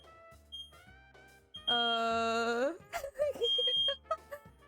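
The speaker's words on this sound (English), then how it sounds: "my fire alarm is going off" An apartment fire alarm goes off with repeated short, sharp beeps at irregular spacing, broken by a louder sustained tonal wail partway through. No clear speech is heard.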